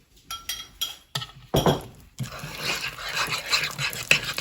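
Mincemeat being stirred into vegan cookie dough in a bowl, with spoon clinks and scrapes against the bowl in short uneven bursts, followed by a longer run of steady mixing and knocking.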